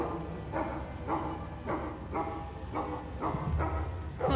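Dogs barking in the video game Shadowalker, a regular series of about eight barks roughly half a second apart at moderate distance, over a low background rumble.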